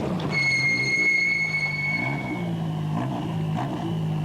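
A 330-horsepower, 2.5-litre Citroen ZX Rally Raid car driven by Timo Salonen accelerates on a desert stage, its engine revving up through several gear changes, loud and near, with a steady high whine.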